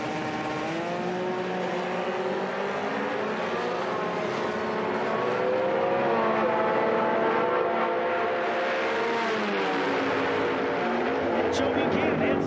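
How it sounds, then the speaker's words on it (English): A six-cylinder Ford Mustang drag racing down the track at an IHRA event, engine tones climbing and shifting as it accelerates, heard from a distance under a commentator's talk. "Joe Buchanan heads down in his 6-cylinder Mustang"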